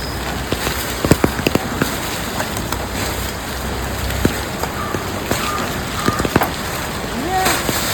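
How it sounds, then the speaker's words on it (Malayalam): Steady rain hisses across the whole clip, with scattered drips and taps, while faint voices murmur in the background. "കാലാവസ്ഥ നല്ല മഴയാണ്"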